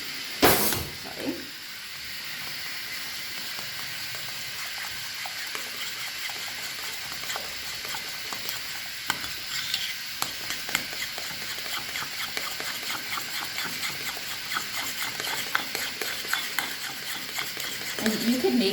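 Spoon mixing matzah ball mixture in a bowl, a sharp knock at the start followed by continuous soft scraping and swishing strokes at a steady pace, fairly close.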